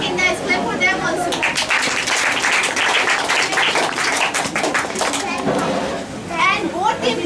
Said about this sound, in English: Clap for them also.